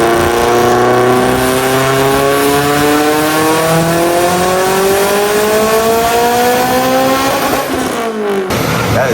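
A Mitsubishi Evo with an AGT 64mm turbo on a stock block screams through a long dyno pull, its loud engine note climbing steadily in pitch for about eight seconds before cutting off abruptly, close and without speech.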